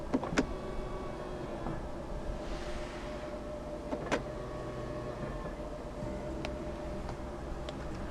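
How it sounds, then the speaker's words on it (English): Power-folding side mirrors on a 2017 Volvo XC60 T5 motoring inward, a steady low electric whir from inside the cabin with faint clicks at the start and end of travel. "this car does have power folding side mirrors"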